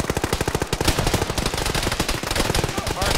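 Rapid bursts of automatic gunfire in a ShackTac military game session, loud and close, sharp shots in quick succession filling the whole moment with barely any pause, with a voice briefly heard underneath.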